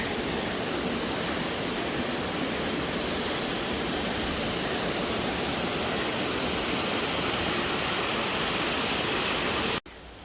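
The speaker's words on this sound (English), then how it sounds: "So this is the stream that's flowing into the waterhole that we were just at." Stream flowing into a waterhole at the bottom of a canyon, a steady loud rushing wash of water heard close up and alone, cutting off abruptly at the end.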